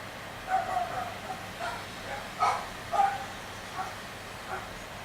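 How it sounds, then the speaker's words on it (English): A pet dog barks from another room, about four or five muffled, moderately distant woofs spaced irregularly over a few seconds. "that's my dog barking"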